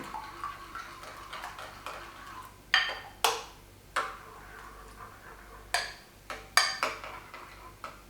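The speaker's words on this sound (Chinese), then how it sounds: "鸡蛋再次搅拌一下" Eggs beaten in a bowl while making egg-wrapped kimbap, a run of light clinking taps of utensil against the bowl with a few sharper knocks, close by and with no talk.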